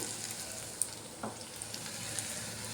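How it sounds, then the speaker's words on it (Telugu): Finely chopped small onions frying in a pan, a quiet, even sizzle with a couple of light stirring taps, faint and continuous. "ఉల్లిపాయలు కొంచెం వేగినాయండి బాగానేను"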